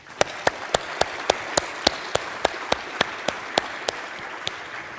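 An audience applauds to welcome a lecturer onto the stage, giving a steady wash of clapping, with sharp, regular claps from a nearby pair of hands standing out above it.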